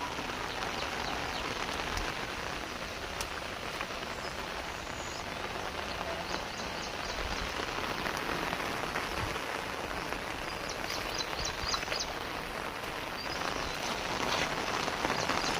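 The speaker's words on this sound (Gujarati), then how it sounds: "પાછો વરસાદ જબરજસ્ત વધી ગયો છે, એકદમ વરસાદ વધી ગયો છે" Heavy monsoon rain pours steadily onto surfaces nearby, a dense, even hiss that continues without a break and without any voices.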